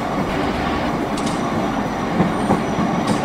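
A night train, the Jayakarta, runs straight through Linggapura station without stopping, making a loud, steady rumble heard from on board with rhythmic wheel clatter and faint squeals over the rails.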